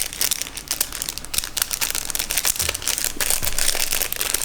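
Close, continuous crinkling of a thin plastic packet being handled and pulled at, with irregular crackles and rustles throughout.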